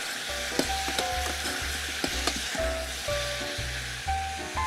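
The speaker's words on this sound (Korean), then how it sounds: "그래서 조금 볶아 주셔야만 그 신맛을 많이 줄여 주실 수 있어요." Softened tomatoes are stir-fried in a hot pan for soup, giving a continuous sizzle with rhythmic scraping strokes of a utensil against the pan and light clinks, close and fairly loud, with no speech.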